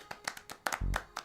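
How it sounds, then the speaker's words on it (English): A few light, quick hand claps sound close by in quick succession, with a short low voice sound in the middle of the burst. "Everybody clap for Matt."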